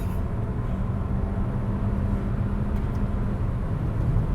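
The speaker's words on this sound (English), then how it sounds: "Getting a decent amount of wind noise over here" Steady broadband wind and road roar inside a 2024 Alfa Romeo Tonale while driving, a constant low rushing hum at moderate loudness with no talking.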